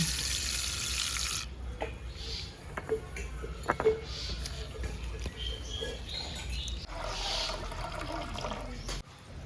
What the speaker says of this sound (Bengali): সবজিটাকে ভালো করে ধুয়ে তুলে নিব ডালটাকে ভালো করে ধুয়ে নিব